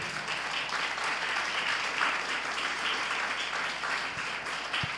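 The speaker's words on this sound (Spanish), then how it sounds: "Denle otro aplauso al Señor." Congregation at a church service applauding steadily and fairly loudly, a dense continuous wash of clapping that holds throughout without a break.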